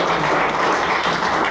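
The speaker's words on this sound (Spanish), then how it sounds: "vamos a pedir fuertes aplausos a Nicolás Hidrogo" Audience applause for a speaker at a book presentation in a cultural space in Peru, a steady dense wash of clapping, loud and sustained throughout with no gaps.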